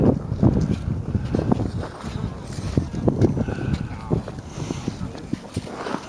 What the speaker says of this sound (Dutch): Het is een enorme stuk wind.